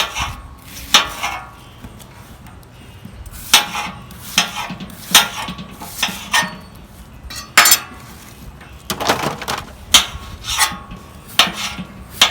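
Repeated scraping, rubbing knife strokes on metal as vegetables are cut up in a pan, irregular bursts with brief clinks and pauses between, close and clear with no talk.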